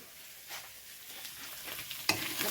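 Food sizzles in an oil-filled pan while being stirred, a soft steady crackle that swells into a louder hiss near the end.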